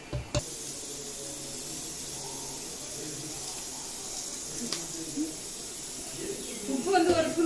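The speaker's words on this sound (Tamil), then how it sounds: "இப்போ இதை வந்து நம்ம தாளிச்சு பண்ணுறோம்." Spices for tempering a South Indian dal curry (paruppu kulambu) sizzle in hot oil, a steady broadband hiss filling the whole stretch with a few brief crackles and spatters near the end.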